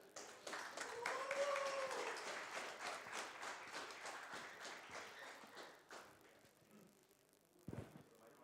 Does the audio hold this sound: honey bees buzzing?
no